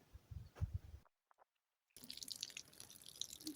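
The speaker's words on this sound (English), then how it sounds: "This is our high-tech watering system." Water from a simple garden watering system running and dripping onto soil in a lettuce patch, faint trickling and splashing that cuts to near silence for about a second before resuming with soft, scattered drips and splashes.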